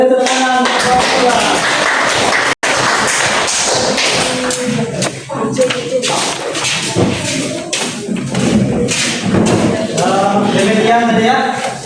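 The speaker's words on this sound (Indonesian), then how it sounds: "ayo, tepuk tangan." Classroom audience clapping hands together in a loud, dense burst of claps, with voices and shuffling mixed in throughout.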